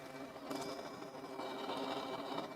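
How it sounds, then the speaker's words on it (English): Forced-air blower on a sandblasting helmet, a quiet continuous whirring hum with a faint high whine, steady and close, no talking. "you can hear that this has forced air"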